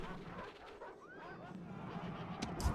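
Many dogs bark, yip and whimper in a Rome Total War battle. The sound is quiet and far off, with scattered yelps over a murky background and a brief voice.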